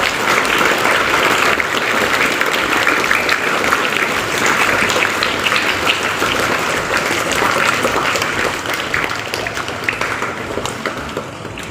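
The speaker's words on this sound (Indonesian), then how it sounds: "Kita beri tepuk tangan yang meriah" A large crowd applauds at an Indonesian National Education Day ceremony in 2025. The clapping is steady and continuous, then eases slightly toward the end.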